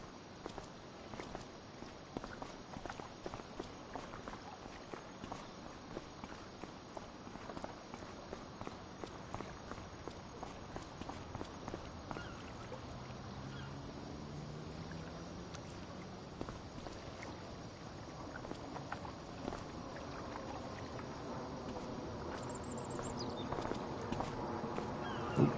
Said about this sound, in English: Oh, I hear footsteps. Do you guys hear footsteps?